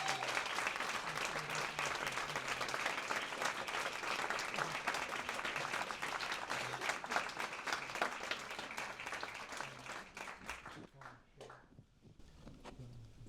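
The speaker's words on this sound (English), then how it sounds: "Can we have a round of applause?" A concert-hall audience at the Barbican Centre applauds steadily, a dense, sustained wash of clapping that thins and fades toward the end.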